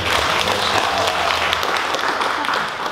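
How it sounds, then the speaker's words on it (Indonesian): Audience at a storytelling workshop breaking into loud, steady applause, a dense wash of clapping that continues evenly throughout and tapers slightly at the end. "Kita beri aplaus dulu dong"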